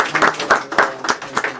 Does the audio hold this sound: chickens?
no